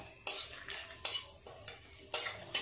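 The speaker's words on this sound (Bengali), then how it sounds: "তেজপাতাটা একটু নেড়ে চেড়ে নিয়েছি" Bay leaves being stirred in hot ghee and white oil, quiet bursts of crisp scraping from a spoon against the pan at an irregular pace over a faint low sizzle, with no talking.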